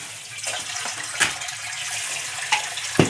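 Water from a tap runs steadily while fish market trays are rinsed off, a continuous splashing wash broken by a few sharper splashes as the trays are handled.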